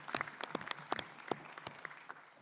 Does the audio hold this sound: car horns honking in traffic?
no